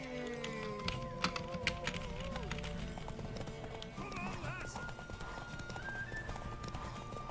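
Rapid hoofbeats of galloping horses pound under energetic music during a horse race in The Witcher 3, with a horse whinnying partway through and voices talking over the action.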